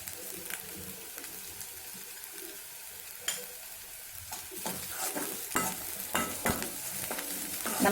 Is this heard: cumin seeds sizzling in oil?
yes